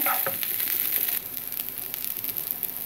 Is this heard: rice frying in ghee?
yes